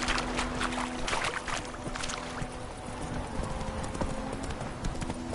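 Rapid, regular hoofbeats of the horse Roach galloping in a PS4 video game, continuous and fairly close, with faint game ambience behind them.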